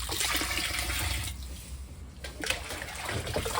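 Water being stirred vigorously with sterilizing powder to prepare an oyster mushroom growing kit, a continuous close sloshing and swirling of liquid with brief dips, no voices.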